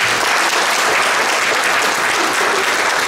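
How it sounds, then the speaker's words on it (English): Sustained, dense applause from an audience fills the space evenly for several seconds, steady and fairly loud with no talking over it. "let's give them a round of applause"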